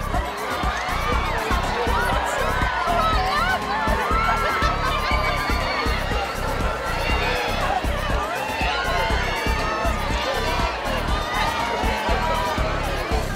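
Crowds outside Britain's Got Talent auditions in cold weather greeting judge David Walliams as he shakes hands and signs autographs, a steady wash of cheering, chatter and shouting throughout.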